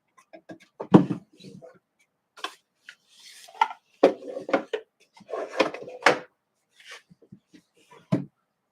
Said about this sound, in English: that little tray will go back in the drawer